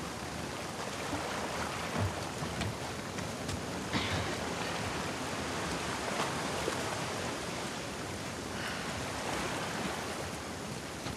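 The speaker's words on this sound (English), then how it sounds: "Let's get out of the rain." Heavy rain in The Last of Us Part II, a dense, continuous hiss of downpour with scattered splashes, steady and loud throughout without pauses.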